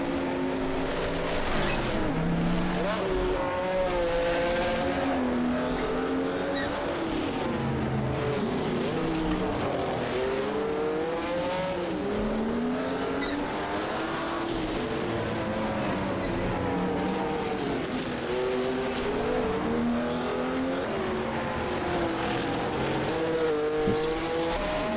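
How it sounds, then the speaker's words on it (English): A tiny Porsche 904 race car in a racing video game screams steadily through its gears, the engine note rising and dropping with each shift and held continuously loud and close across the run. "tiny little Porsche 904 taking on the might of the..."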